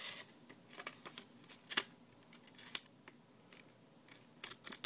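A Spyderco Endura 4 FRN knife with a razor-sharp combo edge slices through a sheet of paper, making quiet, crisp scratchy cuts in short irregular bursts close to the listener, with no speech.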